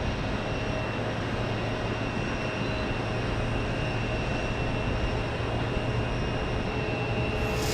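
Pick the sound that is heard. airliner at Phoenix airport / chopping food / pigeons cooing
airliner at Phoenix airport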